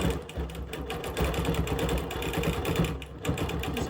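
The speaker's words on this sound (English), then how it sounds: "go back and forth a few times. Lock my stitches." A sewing machine runs steadily at close range, stitching back and forth to lock the stitches at the end of a seam on a small fabric project, with a continuous dense mechanical whir.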